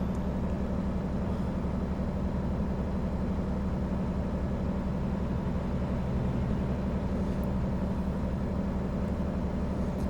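A truck engine in the driving game American Truck Simulator drones at a low, steady pitch near 65 miles per hour, a constant heavy hum that barely changes, with no speech.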